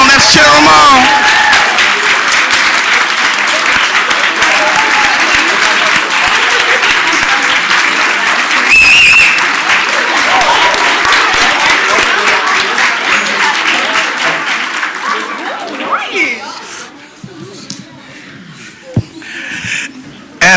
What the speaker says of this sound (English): Come on, let's clap it up for them. Let's clap it up for them.